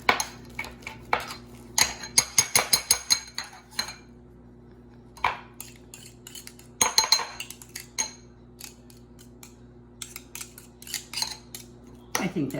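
A potato masher works potatoes with butter in a pot, producing irregular bursts of metallic clinks and clacks against the pot, separated by short quiet pauses, close and moderately loud with no talking.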